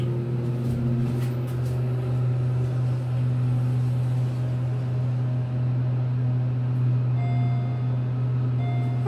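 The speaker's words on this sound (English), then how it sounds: "Maybe this motor's loud." A Delaware hydraulic elevator motor in a condominium in Ocean City, Maryland hums steadily and loudly, a constant low drone with a faint higher whine, no talking.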